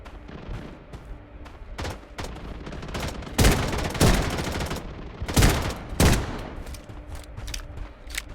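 Gunfire in the shooter game Blood Strike: loud bursts of rapid shots and scattered single cracks, dense and close, with heavy volleys at intervals and no talking.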